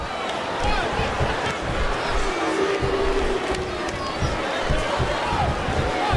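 Capacity arena crowd in the WWE SmackDown vs Raw 2008 wrestling video game roars and cheers steadily throughout, a dense continuous wash of noise with a few louder swells and no clear commentary on top.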